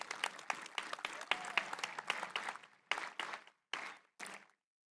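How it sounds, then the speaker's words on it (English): A high school graduation audience applauds, with steady, dense clapping that breaks into shorter bursts and dies away into silence. "If you can give them another round of applause."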